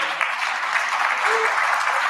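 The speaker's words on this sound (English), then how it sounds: "I would like to give them a big applause." Steady applause from a conference audience fills the whole short stretch, dense and even clapping at close range with no speech over it.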